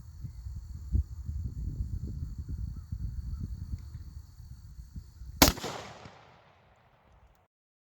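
Rifle firing 150 grain Hornady Super Performance ammunition at ceramic body armor, one sharp, loud crack followed by a fading outdoor echo after quieter background rustling.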